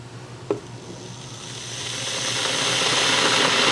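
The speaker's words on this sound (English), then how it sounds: "we've got audible activity coming from inside the kettle" A 3kW electric kettle heats one litre of water on US 220V power, its hiss and low rumble slowly building in loudness after a single click near the start.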